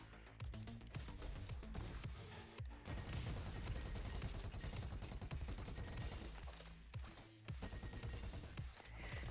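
Weapon fire in the video game Roboquest roars continuously, with rapid overlapping shots and blasts forming a loud, dense barrage for several seconds, with brief gaps.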